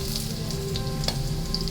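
Sliced ginger sizzles steadily in hot oil in a pan for a Filipino papaitan made with beef skin, a continuous close frying hiss with faint stirring clicks and no voices.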